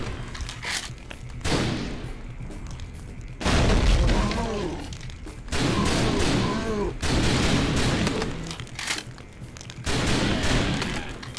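Gunfire and blasts in the video game House of the Dead Overkill, several heavy bursts of shots and booming impacts in clusters, interleaved with character dialogue and a game soundtrack.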